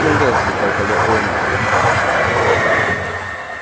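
Two blue Stadler Flirt electric trains roll in, a loud, close rumbling rush of wheels and motors that fades slightly toward the end, with a voice speaking over it.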